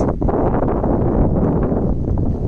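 Strong wind buffets the microphone on an evening by the water at Poole Harbour in Dorset, a loud, steady low roar with gusty swells and no talking.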